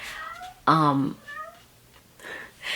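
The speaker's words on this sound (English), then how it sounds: "Please ignore the cat. He is very talkative right now." A talkative house cat lets out a loud, drawn-out meow, then a few softer chirping mews amid quiet room sounds.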